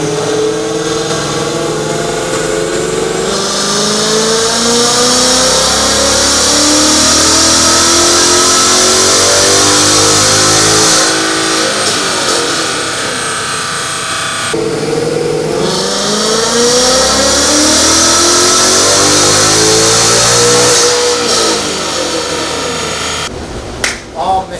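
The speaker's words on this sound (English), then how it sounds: "2024 Mustang GT on the dyno" A 2024 Ford Mustang GT with a naturally aspirated engine, strapped to a dyno, makes two long full-throttle pulls. The exhaust note climbs steadily in pitch through each run, then drops away in a brief gap. It is loud and close throughout.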